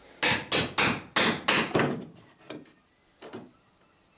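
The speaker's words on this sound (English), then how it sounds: "the hammer makes a much different sound" A hammer drives nails while riveting the planks of a small clinker-built boat: six sharp, loud, evenly spaced strikes, then a few softer, duller taps after a pause.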